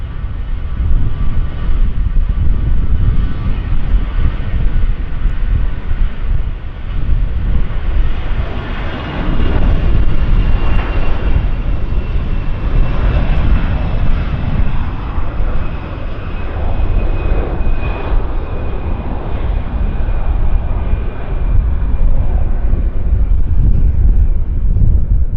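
An airliner on its takeoff roll at Vancouver YVR airport, a loud, steady jet engine roar that builds and holds for the whole stretch, with wind buffeting the microphone and no voices.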